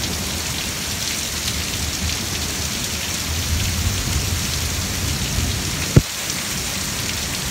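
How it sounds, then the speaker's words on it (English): Heavy storm rain pours in a constant, dense wash of noise, broken near the end by a single sudden, sharp thunder crack. "this fucking storm, though, is getting insane"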